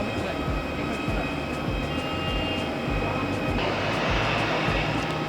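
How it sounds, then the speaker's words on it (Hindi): An IndiGo airliner taxis on the runway at Patna Airport, a steady, loud jet-engine roar with a broad rushing hiss that keeps going with no break and no speech over it. "इंडिगो का विमान आगे बढ़ने लगा"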